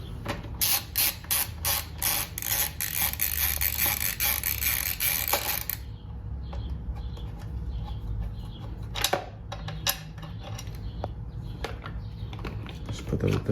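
Ratchet clicking rapidly while removing a 10mm bolt on a 2021-2023 Honda CBR650R tail section, a dense close burst of pawl clicks, then scattered lighter mechanical clinks and handling noises.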